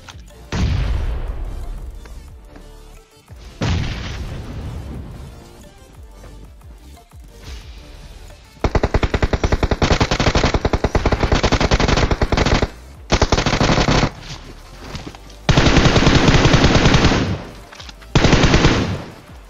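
Bursts of UMP submachine gun fire in the mobile battle-royale game PUBG Mobile: rapid, loud automatic fire in several sustained strings separated by short pauses, with sharper single booms early on.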